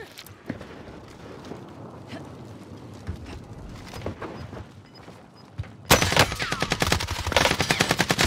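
Rapid MP5 submachine gun hip-fire in Call of Duty on Rebirth Island: scattered single shots and thuds give way to a dense, loud burst of automatic fire in the last couple of seconds.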